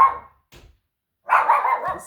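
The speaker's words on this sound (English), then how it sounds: "He just comes out of nowhere and starts barking." A dog barks indoors: a short bark, a brief faint yip after a pause, then a longer burst of barking, all fairly close and with no talk over it.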